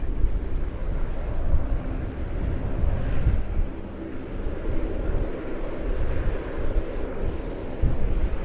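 An RC-135V Rivet Joint aircraft taxis onto the runway from the right, its jet engines producing a steady, loud broadband roar with wind buffeting the microphone throughout.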